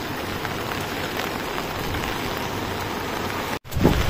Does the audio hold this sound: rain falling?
yes